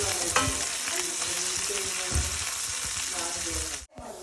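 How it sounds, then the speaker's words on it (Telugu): Ginger-garlic paste with cumin, then a ground spice paste, sizzles loudly in hot oil in a pan while being stirred, a steady dense crackle with a few spoon scrapes, cutting off abruptly near the end. "అదే ప్యాన్లో ఆయిల్ వేసి వేడయ్యాక జీలకర్ర అల్లం వెల్లుల్లి పేస్ట్ వేసి కలుపుకొని"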